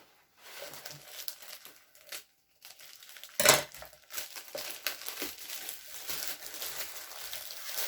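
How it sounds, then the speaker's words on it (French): Close crinkling and snipping of scissors cutting plastic packaging off a skateboard, with irregular cuts and rustles, one sharp crackle standing out partway through, quiet overall. "je vais prendre des ciseaux"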